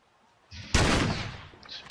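A single loud gunshot cracks out in The Last of Us video game, a sharp blast that fades into a short echoing tail.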